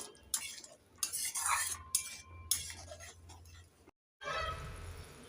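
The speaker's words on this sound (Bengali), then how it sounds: "দিয়ে দেব কেটে রাখা টমেটো একটু নেড়ে চেড়ে দিয়ে দেব" Chopped capsicum and tomato are stirred in a pan for a mustard puti fish curry, with repeated scraping and metallic clinks of a spoon in quick bursts, close and fairly clear, and a short silent gap.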